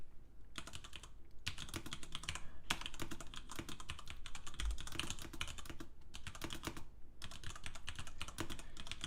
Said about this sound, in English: I'm just typing a message here